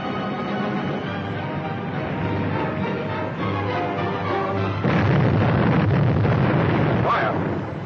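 Deck gun on a submarine firing in a 1942 naval adventure serial, heavy booms and bursts from about five seconds on, loud and close, over a dense background of orchestral music and noise.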